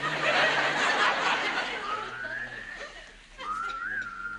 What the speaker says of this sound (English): Put the paper down and whistle.